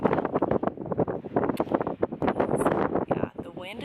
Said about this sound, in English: the wind is freaking brutal up here